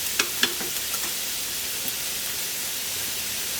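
Red onions sizzle and hiss steadily in a pot, with a few sharp scraping clicks from stirring near the start, then an even, close frying crackle with no talking.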